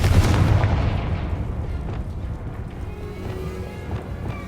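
Fiery Confringo blast spell from the Hogwarts Legacy game explodes with a loud booming burst at the start, then trails off into a rumbling decay.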